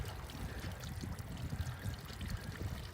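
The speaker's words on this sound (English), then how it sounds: "So we're going to rinse that, strain that out" Water runs and trickles over soaked corn as it is rinsed and strained for Native American corn soup, a soft, low splashing and dribbling that continues unevenly, heard close and fairly quiet.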